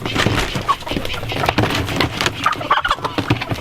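Chickens being fed their feed during evening chores, a busy flock of fowl clucking and gobbling close by with steady scratching and shuffling throughout.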